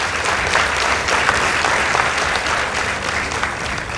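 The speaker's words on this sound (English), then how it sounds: "Let's give them a round of applause." A school debate audience of girls' high school students bursts into sustained, loud applause, a dense and even roar of many hands clapping throughout.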